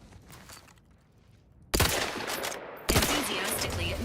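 Gunfire in the video game The Outer Worlds 2: after a quiet start, sudden loud sustained bursts of automatic fire erupt close by, continuing in two dense volleys separated by a brief break.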